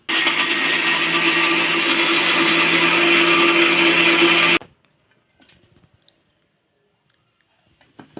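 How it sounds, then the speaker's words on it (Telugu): Mixie grinder whirring loud and steady as it grinds roasted gram and garlic cloves in its jar, running continuously for a few seconds then cutting off abruptly into near silence with faint handling clicks. "మిక్సీ వేసుకుందాం"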